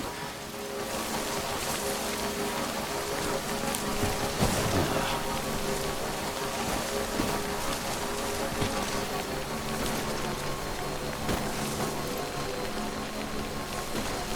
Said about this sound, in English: We could wait for the rain. It's really dumping.